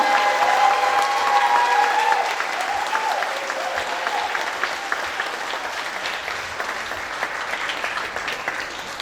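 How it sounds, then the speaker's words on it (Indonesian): Theatre audience at a play performance breaks into sustained, dense applause that stays steady and full for several seconds, with a faint tonal voice or music trace at the start fading beneath the clapping. "Mari kita berikan tepuk tangan paling meriah"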